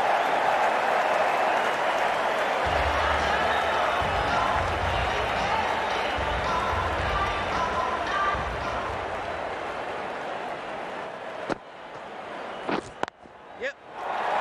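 Stadium crowd in the video game Cricket 19 applauding and cheering after a boundary, a steady loud roar of clapping that fades toward the end, with a few sharp knocks near the close.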